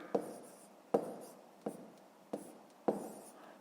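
A fraction is written down during a fifth-grade math lesson. Five distinct pen or chalk strokes tap and scratch at a steady pace, close and quiet, with no talk over them.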